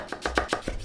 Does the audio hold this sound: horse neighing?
no